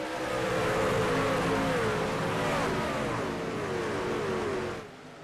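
Race trucks in an NTRL truck series race at Iowa accelerate hard at a green-flag restart, engines revving up through gear shifts in a loud, sustained roar that fades out toward the end.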